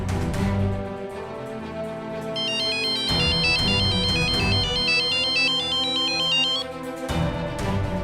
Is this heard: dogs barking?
no